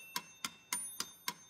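Crisp, evenly spaced metronome ticks, five quick clicks in a steady tempo, sound close and isolated against near silence.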